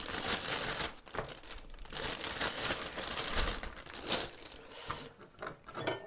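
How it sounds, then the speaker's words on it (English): Pieces of lean pork pushed into a plastic marinade bag for air fryer Chinese char siu, giving steady close crinkling and rustling of plastic for several seconds, with no talk. "I'm going to put it in my marinade bag"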